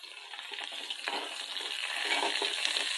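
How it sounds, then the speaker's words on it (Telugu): Tempering spice masala with a dal paste fries in a pan, a continuous close sizzle and crackle with light stirring scrapes, with no talking over it. "మన పోపు మసాలా ఫ్రై అవుతుందండి"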